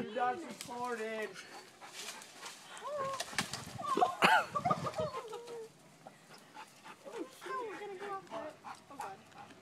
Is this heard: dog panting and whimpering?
yes